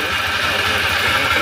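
A motorcycle engine with a deep big-bike tone and overhaul damage runs at a steady idle, its low, even throbbing close and loud, with no talking.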